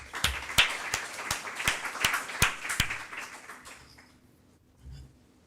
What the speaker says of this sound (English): let's give an applause to Jelena and Eric